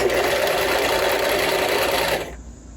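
A sewing machine stitches fabric in a steady, loud, continuous whir that runs close up and then stops abruptly near the end.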